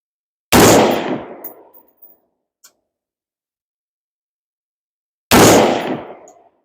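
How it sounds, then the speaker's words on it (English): Two loud gunshots from a handgun fitted with a red dot sight at an outdoor shooting range, the first near 0.5 s and the second near 5.3 s, each a sharp crack trailing into a decaying echo, with quiet between them. "the max I'm going to do is 3 shots"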